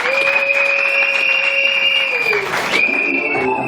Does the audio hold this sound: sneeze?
no